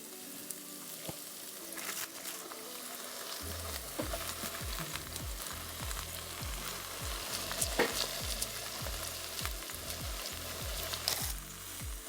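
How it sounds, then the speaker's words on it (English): Cabbage cooking down in a pan for chow mein, a bright sizzle that swells as more is added partway through, with frequent rhythmic scraping and stirring strokes, close and loud, no talk. "Our cabbage is cooking down, so I'm just gonna add a little bit more into the pan"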